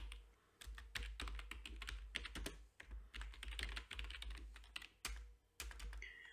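Computer keyboard typing while entering a sine function into Smath Solver software, a close, crisp run of irregular key clicks in quick bursts with short pauses between, no talking.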